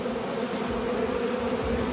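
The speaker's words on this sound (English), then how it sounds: "I've got a feeling this is the hive being robbed." Honey bees robbing a hive make a dense, steady buzzing swarm drone close by, continuous and loud with no voices.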